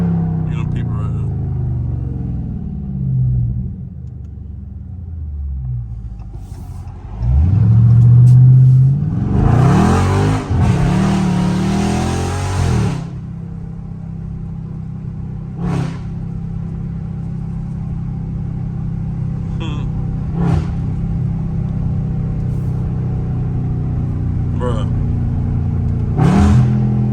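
A Dodge Charger Scat Pack's engine revs and rumbles as it slides through turns on a neighborhood street, surging in loud bursts between steadier idling, with people talking excitedly throughout.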